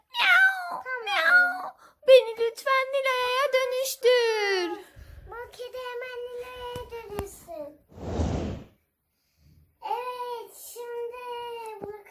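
A cat meows repeatedly in drawn-out, wavering cries, with a voice mixed in and a breathy sigh partway through.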